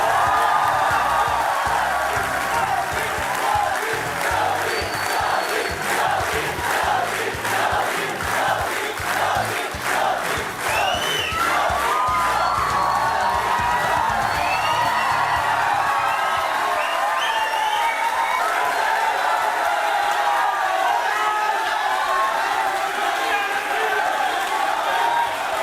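Studio audience at a televised Malayalam talk show claps and cheers continuously as a chief minister is welcomed, a dense crowd roar with whoops, steady throughout.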